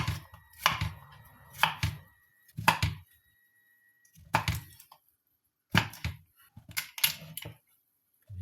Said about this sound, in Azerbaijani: beləcə doğrayırıq